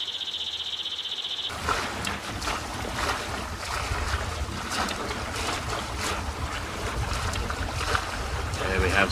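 A boat passes on the open sea, a broad rushing wash of engine and water noise that rises abruptly and stays loud and steady, with wind buffeting the microphone.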